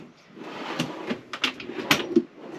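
A drawer in a 2021 JB Caravans Gator-X van is opened, giving a few short close knocks and a quick sliding rattle over light room noise.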